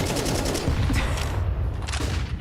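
Counter-Strike match gunfire, including a sniper rifle, with rapid bursts of loud shots and booms packed together over a couple of seconds, heard close and dense.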